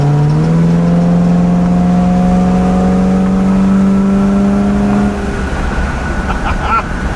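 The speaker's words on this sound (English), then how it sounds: "Okay, let's open it up onto the highway." A 1960s luxury car, revived after sitting seized for about 30 years, accelerates onto the highway, its engine note climbing steadily and loud and close, then easing off as a voice speaks briefly.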